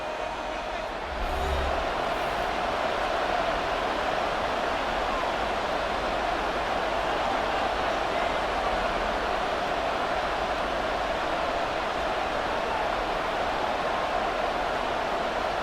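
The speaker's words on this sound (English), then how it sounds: "A big play here as the crowd noise rises." Football stadium crowd roars in a steady, dense wash of noise that holds loud and broad throughout, swelling slightly after the opening seconds.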